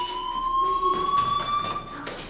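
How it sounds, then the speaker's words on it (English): A school fire alarm in the Life is Strange video game rings continuously with a steady electronic tone, while other buzzing pulses and noise swell over it midway. "do you hear that fire alarm? That means you should be outside."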